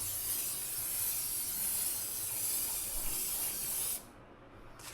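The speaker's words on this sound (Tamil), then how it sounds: "இப்போது கிளியர் கோட் அடிப்போம்" Clear coat sprayed from an aerosol can onto a car wheel cap, a steady close hiss lasting about four seconds before it cuts off abruptly.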